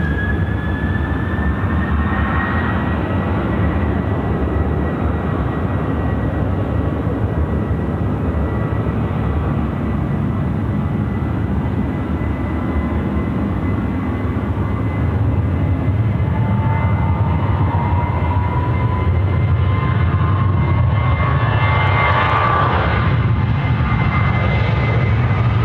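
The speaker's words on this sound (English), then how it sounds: "Sydney to Melbourne, the Boeing 738. Spooling it up." A Boeing 737-800 on Sydney to Melbourne spools up for takeoff on runway 16 right at Sydney Airport, a loud continuous jet roar with rising whine tones that swell and build throughout.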